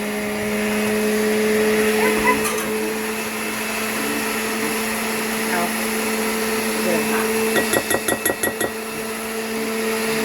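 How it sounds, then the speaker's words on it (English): A kitchen blender whirs steadily at close range, with a few rhythmic clunks and rattles near the end as the motor keeps running. "So that goes in the blender, and we're going to put that on."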